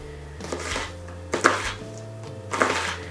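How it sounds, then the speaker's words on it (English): A knife chops an onion in a home kitchen, three separate clusters of crisp cutting strikes on a board, close and moderately loud over a low background hum, with no talk. "You're gonna get this chopped because we're gonna use half of this onion with the ground beef"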